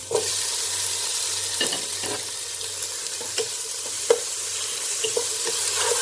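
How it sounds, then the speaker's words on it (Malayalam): Tomatoes go into a pan of frying onions for chole curry, raising a loud, steady sizzle broken by occasional scraping stirs of a spoon, with no talking. "സവാള കളർ മാറി തുടങ്ങി. നമുക്ക് തക്കാളി ഇട്ട് കൊടുക്കാം."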